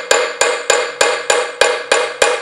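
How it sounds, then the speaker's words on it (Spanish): A chasing hammer strikes sheet metal in eight sharp, evenly spaced metallic blows, each ringing briefly before the next, close and loud with no talking. "con el mismo martillo puedo texturar o bajar"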